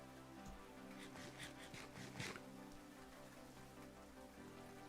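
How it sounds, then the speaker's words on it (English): Steady rain patters in the Minecraft video game, a faint, even hiss with soft drops throughout and no voices. "I'm enjoying the rain."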